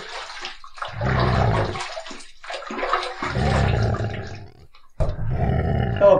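A shaving brush is rinsed under a running tap in bursts of rushing, splashing water, loud and close, with short pauses between pours.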